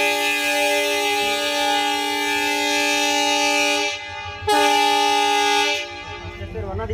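A train at Anipur station sounds its horn in long sustained blasts, loud and nearby, with a brief break before a second blast and rumbling afterward.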